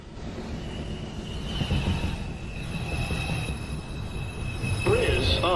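An NYC subway 2 train rumbles in the 215th Street station with a continuous loud roar, and high wheel squeals rise toward the end.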